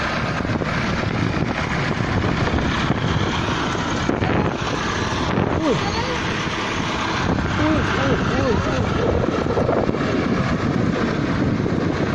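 A tractor engine runs in a village field beside newly planted potato fields in Kasur, a steady loud rumble roughened by gusting wind against the microphone, with a brief faint voice partway through.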